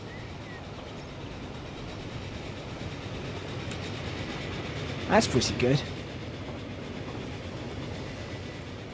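Passenger trains in the Transport Fever game rolling along rails with a steady low rumble and a brief burst of clattering wheel noise midway, while someone talks over it.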